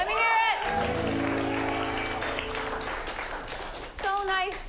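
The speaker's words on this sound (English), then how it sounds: "Give yourselves a round of applause for making such a smart decision on how to spend your night this evening." An improv comedy audience applauds and cheers, with a host's amplified voice talking over the clapping at the start and again near the end.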